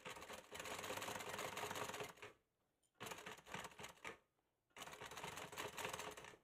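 A sewing machine stitching a bag runs in two steady bursts of rapid mechanical whirring, separated by short pauses, close and distinct.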